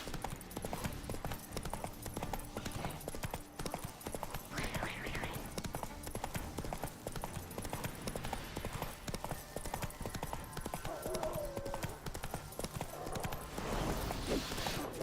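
A horse gallops in The Witcher 3 on Death March difficulty, its hooves drumming in a rapid, steady clip-clop under a dense bed of game ambience and music, with a brief whinny-like cry partway through.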